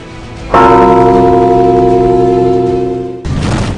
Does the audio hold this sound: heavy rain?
no